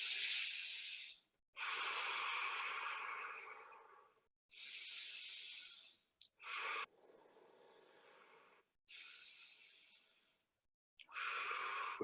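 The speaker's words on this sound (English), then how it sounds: "But you breathe deeply there, fully in, fully out, real deep breaths" Deep, slow breaths drawn fully in and pushed fully out during a guided breathwork session, close and airy, repeating in a steady rhythm with short pauses between, with no talking.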